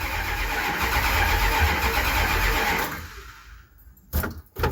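A 1967 Plymouth Barracuda's carbureted engine cranks steadily for about three seconds, then fires and catches before the sound drops off, followed by a few sharp clicks and bumps nearby.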